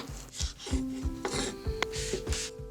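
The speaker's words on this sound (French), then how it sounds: "Écrasez 2 gousses d'ail. Découpez en gros morceaux." Garlic cloves are crushed and then chopped into large chunks on a board, making a run of evenly spaced knife knocks and rasping scrapes, close and fairly quiet, with no talking.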